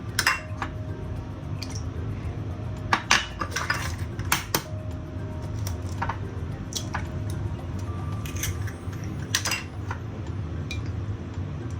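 Four eggs cracked one after another into a separate container in a home kitchen, sharp close taps and clinks of shell on the bowl rim with soft squishy drips, over a low steady background hum.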